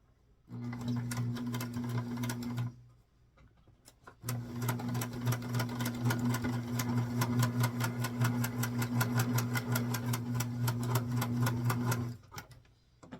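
A sewing machine runs a straight-stitch seam on a small doll dress, two bursts of rapid, even mechanical chattering, one short and one longer, separated by a brief pause, close and clear.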